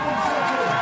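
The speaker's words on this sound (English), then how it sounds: "Crowd's getting behind him." Crowd at a BMX freestyle flatland World Cup final in Montpellier cheering a rider, a brief swell of many voices forming a continuous, moderately loud roar.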